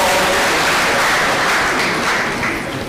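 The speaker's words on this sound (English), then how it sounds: "Hand of applause." A crowd applauds steadily at a college of engineering orientation, a dense wash of clapping that holds strong before tapering slightly at the end.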